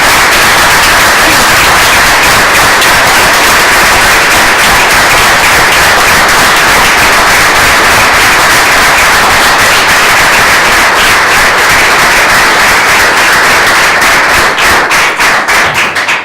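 An audience gives a sustained ovation at the close of a municipal plenary session, dense loud clapping filling the room continuously and steadily, with no voices over it.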